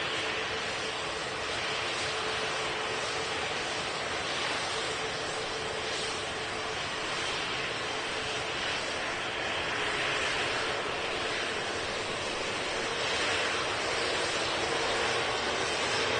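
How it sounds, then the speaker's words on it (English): An Airbus A321neo airliner at Manchester Airport gives off a steady, distant, hissing engine rumble that holds evenly throughout without any clear peak. "A321 Neo."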